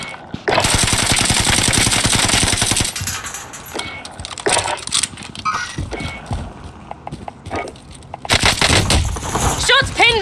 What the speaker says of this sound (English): Shots pinned me!